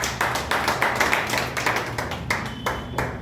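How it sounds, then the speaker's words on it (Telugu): An audience at a book launch honouring a freedom fighter in Kadiri claps together in a steady, rhythmic beat, each sharp clap close and clear with no talk over it. "దయచేసి అందరూ కూడా చప్పట్లతో వారికి అభినందనలు తెలపాల్సిందిగా విజ్ఞప్తి చేస్తా ఉన్నాం."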